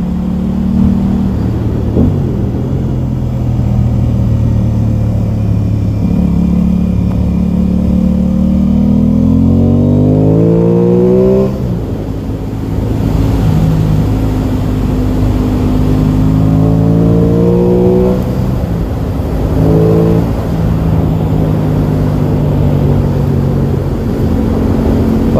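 A 2021 Aprilia Tuono 660 motorcycle engine under way on a road ride, steady harmonic drone rising and falling through gear changes with smooth revving sweeps, close and loud, with constant wind rush behind it.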